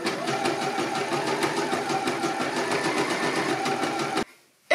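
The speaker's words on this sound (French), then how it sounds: "Je vais coudre à 1 cm et je plaquerai mes coutures vers le milieu dos." A sewing machine stitches swimsuit fabric in a seam sewn at 1 cm, a fast, even mechanical whir with rapid needle clatter, close and loud, stopping abruptly near the end before a brief new burst.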